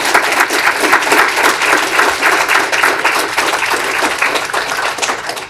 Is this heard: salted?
no